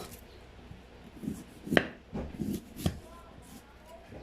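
A knife chopping onion on a board, a handful of irregular close thuds with one sharper crisp cut, quiet and sparse with faint background murmur.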